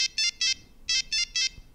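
A Nokia 3310 mobile phone plays its polyphonic ringtone melody, six short bright bursts in a steady rhythm with brief gaps, clear and close against a quiet room.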